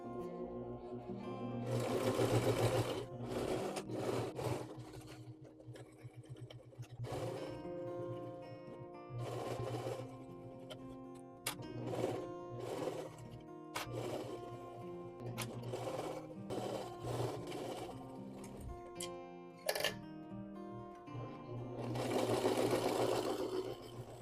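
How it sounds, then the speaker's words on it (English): A domestic sewing machine stitches a quarter-inch seam on a beginner's first project, its motor whirring in steady bursts of varying length with brief pauses between runs, close and fairly loud, with no talking. "Now we just have to sew this, which will be fun."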